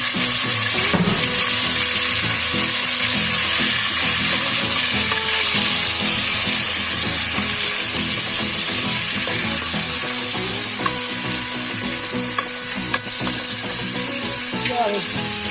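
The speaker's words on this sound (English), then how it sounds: "we are going to be frying the sauce, guys. This is my onions and pepper." Onions and red peppers sizzle in a hot pan for a gizzard sauce in a loud, continuous crackling hiss, with occasional light clinks of stirring.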